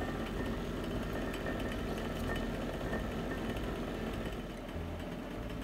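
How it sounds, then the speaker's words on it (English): A workshop fan and dust extraction system run together, giving a steady, loud broadband roar with a low hum, unbroken and even throughout with no speech. "I hope you can hear me over the fan and that extraction."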